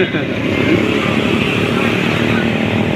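Honda PCX scooter with its engine running, a steady close buzzing drone that holds for a few seconds at even loudness.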